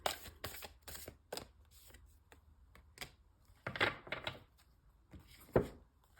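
Tarot cards are shuffled in quiet, close, irregular bursts of soft riffling and tapping, with short pauses between the flurries.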